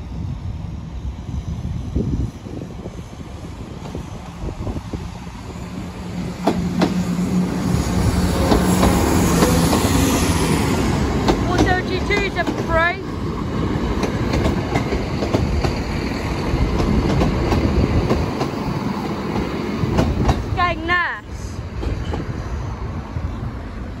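A Class 950 train heading for Skegness pulls away past Sleaford East level crossing, a loud rumbling run with clattering wheels and squeals, then a crossing alarm warbling near the end.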